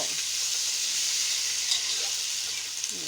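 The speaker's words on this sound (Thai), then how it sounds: "ผัดดอกหอมนะจ๊ะทุกคน" Flowers being stir-fried in a hot pan give a steady, loud sizzle throughout, with a few faint scrapes of stirring near the end and no talking.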